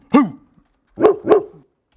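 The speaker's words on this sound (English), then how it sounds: "Let's hear it again. Bark number 4." A dog barks loudly and close by: one sharp bark, a pause, then two quick barks in a row, with no other sound between them.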